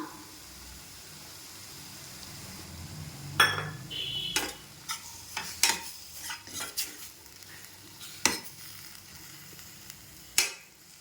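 Metal spoon scraping and clinking in a pan as peas are stirred into spinach, with a low sizzle underneath, a series of sharp taps and stirs near and fairly quiet.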